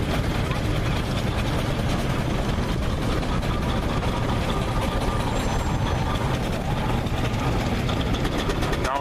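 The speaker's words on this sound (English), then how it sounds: "we've got the Burrell Devonshire, or the single crank compound engine" A Burrell Devonshire single crank compound steam engine runs steadily at a vintage rally on Anglesey, giving a continuous, loud mechanical rumble with some voices mixed in.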